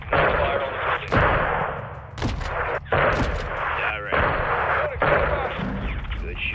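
A gun fires on a building in a war video game, with several loud, booming shots at uneven intervals over a constant rumbling battle bed, each blast sharp and close.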